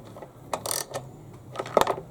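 Nuts being tightened on the recoil starter of a Hyundai HYM430SP-series lawnmower, heard as a few quiet, scattered metallic clicks and ratcheting taps with pauses between them.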